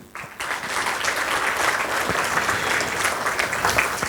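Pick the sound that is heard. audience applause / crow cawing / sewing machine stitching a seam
audience applause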